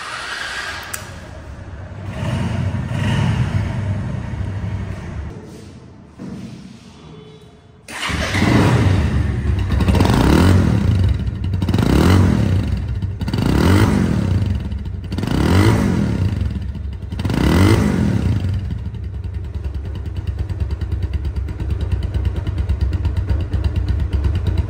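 Second-hand Bajaj Pulsar motorcycle in showroom condition idling, then after a brief dip starting up loudly and revving in five or six rising-and-falling bursts before settling into a steady idle, with no talking.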